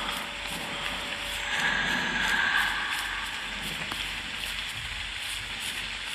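Steady rain falls in the horror game Mental Hospital IV, a constant close hiss that swells slightly midway. No talking is heard.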